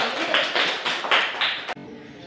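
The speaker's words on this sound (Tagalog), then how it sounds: "Bigyan natin ng palakpak ang ating sarili." A class of children claps together in a classroom, a short run of about five or six brisk, fairly even claps before it stops abruptly.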